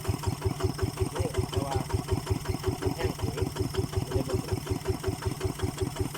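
A walk-behind tractor engine chugs steadily nearby in a cassava field, a loud, regular thumping putter that keeps an even rhythm from start to finish.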